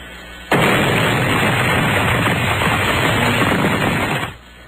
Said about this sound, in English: That's a good explosion.